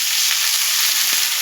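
Pieces of ash gourd sizzle loudly in hot oil in a pan, a dense, continuous crackling hiss with a few faint stirring clicks and no speech.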